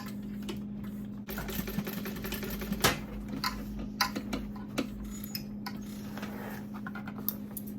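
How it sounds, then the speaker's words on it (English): A sewing machine stitches a bag seam at a 3/8 inch allowance, close and fairly quiet, with rapid mechanical ticking, a steady hum underneath and short bursts broken by brief pauses and clicks. "So now I am going to go and sew this at 3/8 of an inch."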